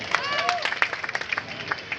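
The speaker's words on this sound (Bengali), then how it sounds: "আরেকটা হাততালি জোরে" A live audience in Chittagong claps loudly and continuously, a dense patter of hands with a crowd's murmur and a voice running underneath.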